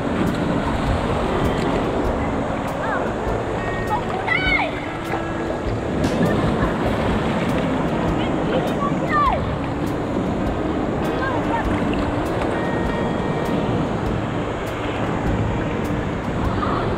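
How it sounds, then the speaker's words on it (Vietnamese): Strong sea waves surge and wash onto Sam Son beach in the early morning, a steady broadband roar of surf with wind noise, continuous and loud throughout, with faint scattered sounds on top. "Ôi sóng mạnh đấy, sóng mạnh không mạnh."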